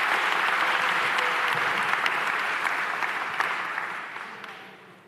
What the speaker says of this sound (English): Let's give Steve Levin a round of applause to thank him.